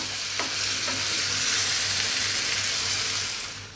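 Pork belly and shiitake mushrooms fry over high heat for a Chinese braised pork dish, giving a loud, steady, close sizzle with a few faint stirring scrapes and no talking.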